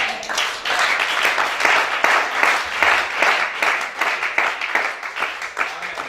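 A church congregation at a teaching service applauds in a dense, continuous patter of many hands clapping, fairly close and steady, with a voice faintly underneath.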